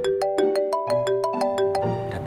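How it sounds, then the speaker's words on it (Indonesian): An incoming-call ringtone on a phone plays as a bright, loud melodic tune of rapid repeating electronic notes over about two seconds, heard alone. "Ada telepon."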